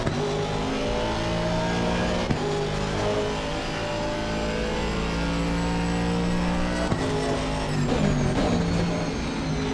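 A V8 engine of an Aston Martin V8 GT3 race car roaring steadily in Assetto Corsa Competizione at Circuit of the Americas, loud and close with shifting pitch through gear changes and a brief upshift blip.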